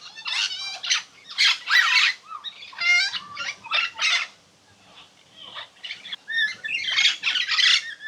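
Parrots, including a red-lored Amazon, squawk in loud, harsh bursts close by at Macaw Mountain in Honduras, calls coming in irregular clusters with a short lull midway.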